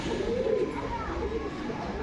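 A male jack pigeon coos in low, soft throaty murmurs close by, the repeated calls blending with faint background chatter.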